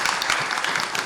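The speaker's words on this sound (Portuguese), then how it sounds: "Aqui eu peço uma salva de palmas" An audience at a bank workers' union event applauds, a brief dense burst of steady clapping from many hands.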